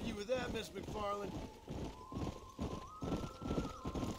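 Horses' hooves clip-clop steadily in Red Dead Redemption, several mounts moving in rhythm at a walking pace, with a brief whinny near the start and game dialogue speaking over the hoofbeats.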